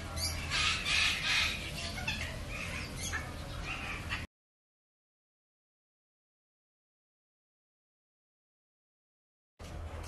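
On a farm, birds squawk and caw in a short cluster of rough calls. The sound then drops to a long silence before faint noise returns at the very end.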